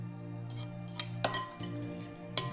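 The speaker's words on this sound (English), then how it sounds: "Let's mix it all together." Macaroni salad being mixed in a bowl with cooled elbow macaroni: soft wet stirring with several light metallic clinks of a utensil against the bowl, close and fairly quiet, no talking.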